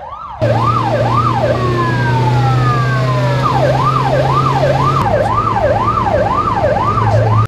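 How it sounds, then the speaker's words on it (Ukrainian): A loud, close ambulance siren wailing up and down in quick repeated sweeps, with a deep engine drone underneath and a brief steady tone in the middle. "таксист добре бачить швидку із увімкненими сиренами та мигалками"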